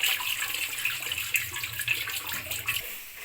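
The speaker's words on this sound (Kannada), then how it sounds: "ಸಾವಿಗೆ ಒಂದು ಸ್ವಲ್ಪ ತಣ್ಣೀರಲ್ಲಿ ತೊಳ್ಕೋಬೇಕು, ಇಲ್ಲಾಂದರೆ ಅಂಟ್ಬಿಡುತ್ತೆ" Cold water runs steadily over cooked vermicelli being rinsed so the strands don't stick, a continuous close splashing stream like a kitchen tap, with no talk.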